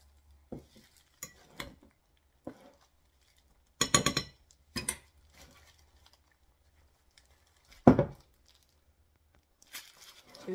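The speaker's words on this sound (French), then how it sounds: "Je vais utiliser juste une cuillère pour mieux mélanger le tout." A spoon stirring a flour, salt and breadcrumb coating for chicken wings in a bowl: sparse, close clinks and scrapes in short bursts separated by quiet gaps.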